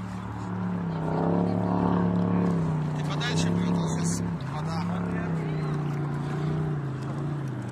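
A motorboat engine drones loudly and steadily on a river at Discovery Park in Sacramento, its pitch shifting slightly as it passes, while people talk over it.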